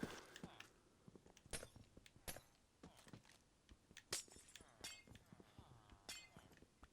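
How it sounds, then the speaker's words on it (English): Glass blocks broken one after another with a Silk Touch tool in a video game, a series of sharp, faint clinking cracks spaced irregularly over a quiet background with soft footsteps. "I like mining glass with Silk Touch"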